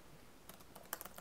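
Typing on a computer keyboard while setting up a Google Sites page: a quick, quiet run of key clicks starting midway, with a few sharper strikes near the end and no voices.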